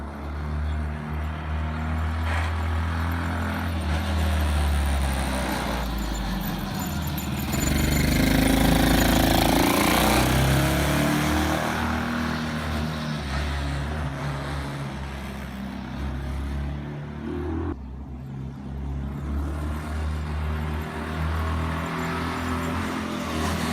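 A Peel P50 microcar's tiny engine runs continuously nearby, a buzzy mechanical drone that swells briefly about a third of the way through before settling back.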